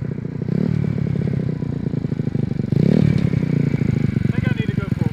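Vintage Honda Z50 mini bike exhaust putters and rasps at close range in a steady rapid chop, swelling briefly as the engine revs, with people talking over it.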